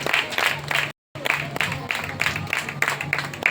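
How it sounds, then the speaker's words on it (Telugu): An audience applauds a young woman at a church gathering, a loose crowd clapping that is briefly interrupted by a dropout and then resumes. "చప్పట్లు కొడదాం ఈ యవనస్తురాలకి."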